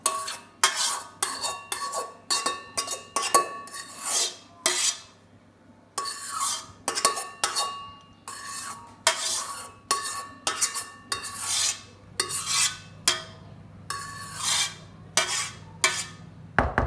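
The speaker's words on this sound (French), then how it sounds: "Et on mélange le tout, alors pas trop énergiquement pour pas casser l'effet blanc d'œuf" Whipped egg whites folded gently into a flourless yogurt cake batter, giving soft repeated scraping and stirring strokes of a utensil against a bowl, in bursts with short pauses, close and alone.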